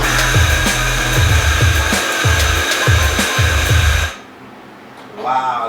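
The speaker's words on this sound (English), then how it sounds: "I'm just going to purge the grinder." A Mahlkonig E65S espresso grinder purges coffee beans with a loud, steady motor whir and a rhythmic chopping pulse for about four seconds, then cuts off, leaving quiet with a faint voice at the end.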